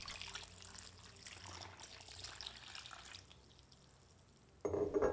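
Water poured into a pot of peaches and sugar for syrup, a steady close trickle and splash for several seconds, quieting briefly before a louder gush of pouring at the end.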